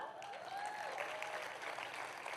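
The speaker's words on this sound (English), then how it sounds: "Keep the applause going." Audience applause at a L'Oréal Paris Stand Up event in India greets a guest, a brief, faint spell of clapping heard from a distance, with a thin electronic tone gliding over it.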